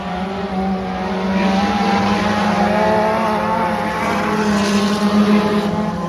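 Race cars roar past at Hattiesburg Speedway, several engines droning loudly and continuously along the backstretch with rising and falling pitch as they pass.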